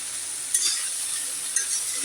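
Spices, onion, green chilli and cumin fry in hot oil with a constant close sizzle, broken by a couple of brief stirring clinks.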